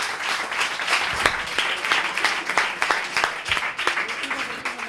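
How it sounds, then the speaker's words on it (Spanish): Applause from an audience at a talk session in Valladolid: dense crowd clapping with some sharper individual claps standing out, steady and fairly close throughout. "Un aplauso también."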